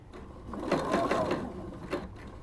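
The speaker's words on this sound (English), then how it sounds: "So you're gonna have to sew this kind of slow, because you're gonna fold this over, then fold it over again" A sewing machine runs slowly along the folded edge of a scarf, making a quiet, close mechanical whir with a rapid ticking needle rhythm that briefly pauses and resumes.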